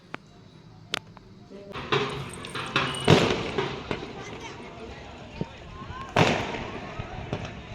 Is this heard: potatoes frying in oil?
no